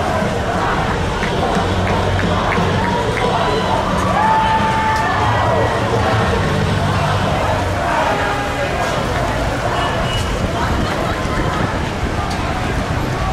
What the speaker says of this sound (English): So the crowd is chanting, fuck corporate pride